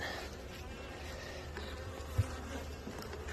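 Honey bees work a hive box with a third box recently added during a nectar flow, making a steady close buzzing hum with one brief soft knock partway through.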